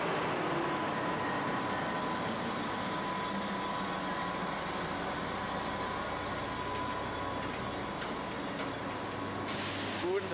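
Inside an RB 31 regional train bound for Coswig near Dresden, a steady, even rumble and hiss of the running train fills the space at low level, with a brief clunk near the end.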